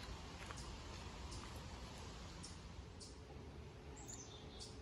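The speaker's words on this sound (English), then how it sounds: "I'm listening to the birds." Birds chirp and call intermittently in the distance over a steady outdoor hiss at a mill pond trail, with no voices.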